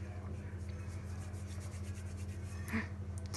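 Hands knead oil into homemade kinetic sand, making soft, continuous rubbing and gritty scraping close by over a low steady hum.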